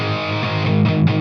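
A sustained, heavily distorted electric guitar chord through a Fender Champion II 50 amp's distortion channel rings out loud and buzzy, with a slight wobble near the end.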